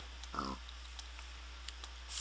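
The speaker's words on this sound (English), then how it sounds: "Pigs." A single pig grunts in a modded Minecraft 1.6.4 world, a short, quiet oink over a low steady hum, followed by faint clicks.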